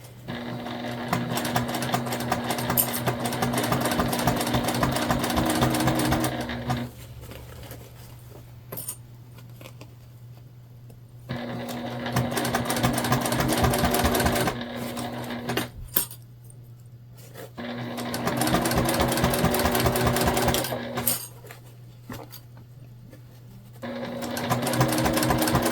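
A sewing machine stitches a sling bag in three long runs of steady, rapid whirring, each broken by quiet pauses with faint handling clicks.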